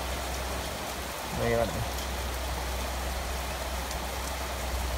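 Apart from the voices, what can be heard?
rain falling while fishing at a home pond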